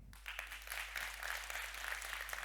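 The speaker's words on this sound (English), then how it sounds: "So let's have a clap from just this half of the audience." Half of a lecture audience claps at a talk on markets and marketing, a dense burst of applause from a crowd, moderately distant and sustained for a couple of seconds.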